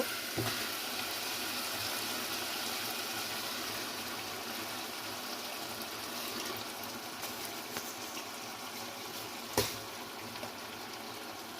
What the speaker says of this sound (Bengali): এখন আমি তরুই আর চিংড়ি মাছটা দিয়ে দিব